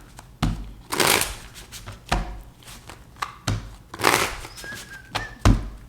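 Tarot cards shuffled by hand in several quick riffling bursts, each a crisp papery flutter with soft thumps as the deck is squared, close and fairly loud with no talking.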